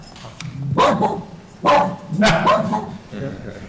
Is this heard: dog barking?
yes